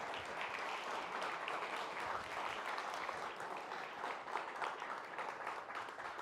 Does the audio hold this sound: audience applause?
yes